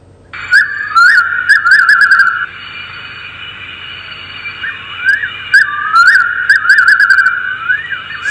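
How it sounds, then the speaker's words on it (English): An African night bird calls in the bush at night, a loud whistled phrase of quick rising and falling notes delivered in two bouts with a short pause, over faint insect background. "the call is a quintessential African sound that you hear at night, and this is what it sounds like"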